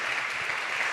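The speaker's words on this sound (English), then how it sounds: "Give them a big round of applause" Audience applause at a conference on building international partnerships, a dense, even burst of many hands clapping, moderately loud and steady for about a second.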